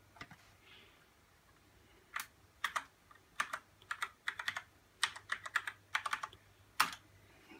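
A password typed on a computer keyboard, short irregular bursts of quiet close key clicks separated by brief pauses, with no one talking.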